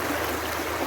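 A river flows steadily all around, a continuous broadband rush of moving water close by, with no voices over it.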